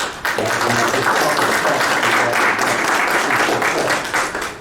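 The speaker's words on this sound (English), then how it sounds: "I'd just like to give a round of applause to our employees for what you do." Employees receive a round of applause from the audience at a board meeting, steady dense clapping holding at a loud level for several seconds.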